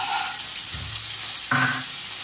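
Cauliflower and raw peanuts fry in a pan with a steady close sizzle, broken by a couple of brief scraping or stirring movements.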